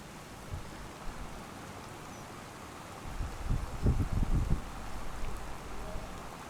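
Rain in the Farming Simulator video game, a steady hiss of falling rain that swells with heavier low rumbling bursts partway through, with no talk.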